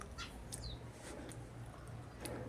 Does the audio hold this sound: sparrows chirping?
yes